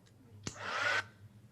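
A heat drying tool blows across a freshly coloured craft card design in one short, loud whooshing burst of about half a second, starting abruptly and cutting off, with a quiet room behind it.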